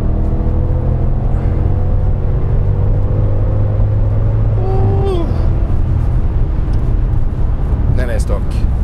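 Turbocharged Audi RS6 V10 engine pulling hard, its steady loud rumble rising in pitch as the turbos spool up, with a brief whine near the end.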